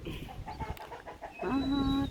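Farm chickens clucking and a rooster crowing at a rural livestock yard, a short close call rising over background noise and mixed with talk.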